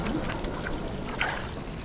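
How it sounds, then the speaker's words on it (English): Floodwater pouring in through a door during a disaster, a steady rushing splash with brief brighter surges, close and fairly loud with no talking. "There's water pouring through the door."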